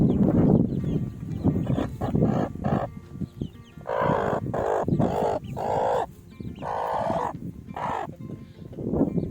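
Young chickens about three weeks old, with a mother hen nearby, cluck and call in a string of close, loud bursts over a busy background, with no voices.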